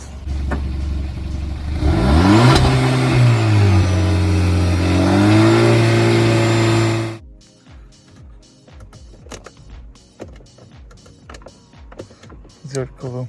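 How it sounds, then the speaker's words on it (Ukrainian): A 2011 Volkswagen Touran 1.4 TSI DSG idles, then its engine is revved loudly, rising and holding for several seconds before cutting off abruptly, followed by quieter clicks and handling noises with some talk. "Може пані попросить, щоб пані трошечки підгазувала, я побачу, чи диму нема."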